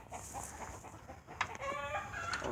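Chickens cluck and squawk at close range around a camper, with other farm noise behind them.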